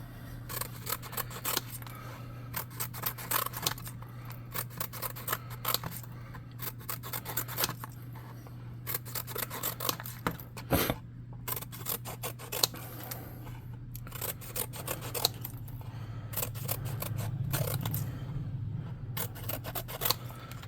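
Scissors snip through cardboard to cut oversized planks for a miniature lumber camp hut, a long run of close, repeated crunchy cuts and rubs over a steady low hum.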